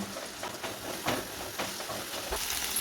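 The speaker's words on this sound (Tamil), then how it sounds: "அதை இதில் சேர்த்துப்போம். இதையும் நல்லா வதக்கி மிக்ஸ் பண்ணி விட்டுடலாம்" Finely chopped onion sautés in a pan for a chicken curry, giving a soft, steady sizzle and hiss with light scraping stir strokes at intervals, quiet and close with no talking.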